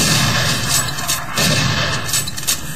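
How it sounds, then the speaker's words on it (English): Revenant firing homing missiles in the Doom 3 video game, a dense, loud stretch of booming blasts and rumbling explosions with sharper bursts near the end, no speech over it. "Not only missiles, but they're pretty damn strong."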